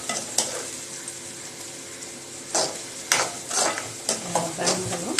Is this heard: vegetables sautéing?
yes